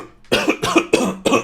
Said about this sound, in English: that wasn't a COVID cough